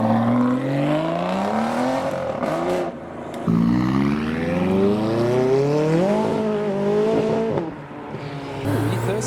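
A Ford Mustang pulls away from a car show with a loud, close engine note that revs in rising, sweeping pitches, dips briefly, then climbs again.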